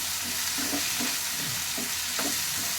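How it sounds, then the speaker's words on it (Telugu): Mustard seeds stirred into a sizzling ladyfinger curry in a pan, Rayalaseema style, giving a continuous frying hiss with soft repeated stirring scrapes up close, and no talking. "ఆవాలు కొంచెం వేసి బాగా కలుపుకోవాలి."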